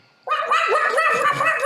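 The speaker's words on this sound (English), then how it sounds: "It's just fucking yapping at all of you." A small dog yaps in a rapid, continuous burst of high, sharp barks after a brief quiet moment. It is loud and close, with no talk over it.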